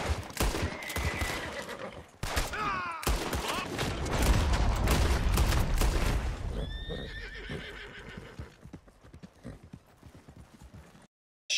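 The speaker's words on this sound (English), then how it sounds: "Shot the guy, the horse runs off, but it doesn't go off too far." Horse in the Red Dead Redemption 2 video game galloping away after gunfire, with loud clip-clop hoofbeats and whinnying near at first, then hooves fading into quieter, scattered steps.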